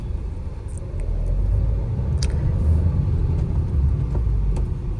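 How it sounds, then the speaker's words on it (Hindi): A Tata Altroz pulls along in first gear, a low, steady engine rumble swelling slightly after the first second, with a few faint clicks and light road noise over it. "तो भाई ये देखो अपन ने ये कार डाली फर्स्ट गियर में, और फिर मैं इसको ड्राइव कर रहा हूँ।"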